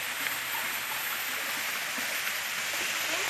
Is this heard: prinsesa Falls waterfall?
yes